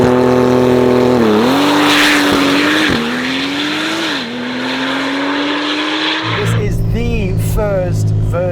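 A Techart GTstreet R, a tuned Porsche 992, accelerates hard with a loud, rising engine note, brief tire squeal and gear changes, heard close up with voices talking over it.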